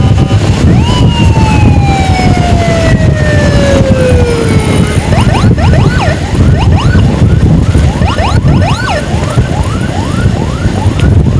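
An ambulance on an emergency run in Samarinda sounds its siren loudly and up close, a long falling wail followed by rapid repeated yelping sweeps over steady road and engine noise.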